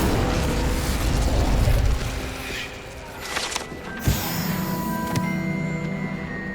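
A fire spell cast in the video game Hogwarts Legacy, a loud rushing burst that roars for about two seconds and then fades into softer crackles and clicks over a dense game soundscape.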